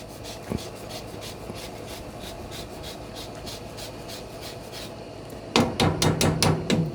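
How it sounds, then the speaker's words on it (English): A lemon being zested on a microplane grater, rhythmic short rasping strokes, faint at first and then a louder, faster run of scrapes near the end. "I'm probably going to end up using the whole entire lemon for zest"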